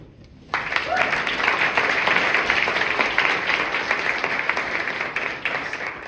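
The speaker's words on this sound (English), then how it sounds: "everyone, a round of applause for Christian Tweed" An audience at a book launch event breaks into steady applause for a speaker, a loud, dense clapping that starts abruptly and holds evenly before tapering slightly at the end.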